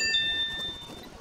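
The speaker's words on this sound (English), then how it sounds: "you can hear my phone, can't you, if I get a text message while it's plugged in" A phone chimes a short bright text-message alert while plugged in charging, a single clear tone set over background game audio.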